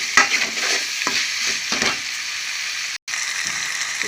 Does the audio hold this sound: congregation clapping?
no